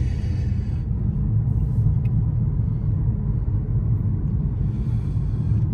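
Steady low interior rumble of a car driving along, a constant road and engine drone with no talking.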